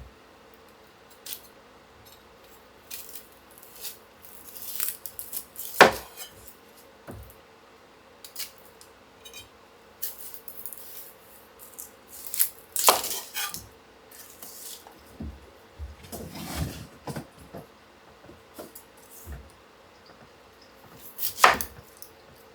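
An onion being cut with a knife on a board: irregular crisp cuts and taps spread across the stretch, close by and fairly quiet, with a few louder knocks and no talking.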